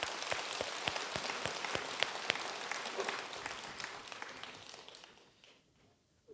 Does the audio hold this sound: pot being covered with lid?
no